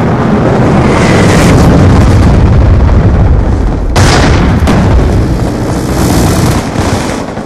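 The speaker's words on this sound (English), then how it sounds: "Hellstorm right. Missile inbound." A Hellstorm missile strike in a first-person shooter video game erupts as a loud, sustained roaring boom with rumbling debris, and a second sharp blast cuts through partway, all very close and dense.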